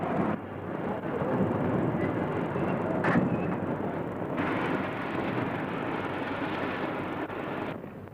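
The Elizabethan non-stop express to Edinburgh sits at a station platform, heard as a broad, steady rumble of train and engine noise with faint distant clatter, filling the whole stretch without any talking.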